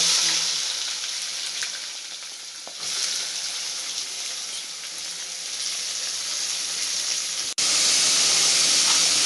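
Onion and whole garam masala spices such as cumin and bay leaf fry in hot oil, giving a steady, close sizzle that holds for the whole stretch, with a sudden louder burst near the end.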